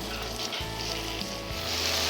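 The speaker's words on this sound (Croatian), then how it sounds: "Ubacujem piletinu u škrobu" Starch-coated chicken pieces hitting hot sesame oil in a wok, a steady bright sizzle and crackle with a low stove hum beneath, continuous and close.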